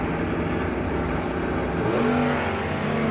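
Robert Ledbetter's Pontiac drag racing at a New Year Nationals event, a continuous loud engine roar with a rising tone pitching upward midway.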